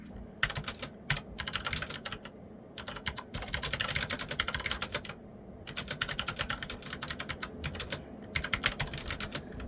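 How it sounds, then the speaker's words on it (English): Typing on a Corsair K70 LUX RGB keyboard fitted with replacement keycaps gives a stream of crisp, close key clacks in quick bursts separated by short pauses. "I just need to do some typing tests."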